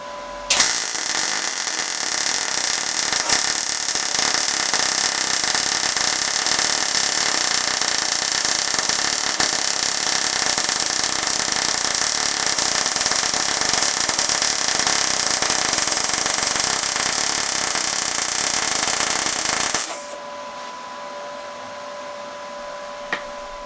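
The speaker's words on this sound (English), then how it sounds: "So I'm going to weld it fully now," Welding along a homemade anchor in a steady, loud, continuous buzzing crackle that runs for about twenty seconds before cutting off, leaving a quieter hum.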